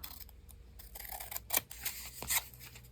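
Scissors trim paper for a handmade craft tag, giving a few quiet, close snips with small clicks and light paper rustle in between.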